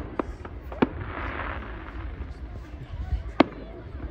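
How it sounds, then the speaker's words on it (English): Fireworks pop in the distance in a few sharp cracks spread over several seconds, under a steady background rumble of crowd and outdoor noise. "I'm gonna see how loud is the fireworks."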